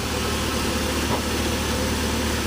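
A 1998 BMW 540iA E39 with its V8 idling, producing a steady, close, deep exhaust rumble that stays constant and even throughout.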